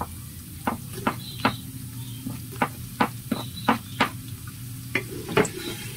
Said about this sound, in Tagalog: lagay na rin natin ang bawang at saka sibuyas